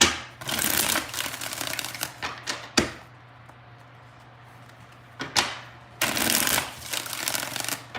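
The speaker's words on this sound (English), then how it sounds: "Two more shuffles." A tarot deck shuffled by hand, with several bursts of dense papery riffling separated by quiet gaps and a sharp tap, heard close up with no voices.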